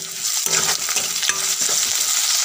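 Ginger-garlic paste fries with browned onions in a pan for an Assamese-style mutton curry, giving a loud, steady sizzle broken by repeated scraping strokes of stirring, with no voices.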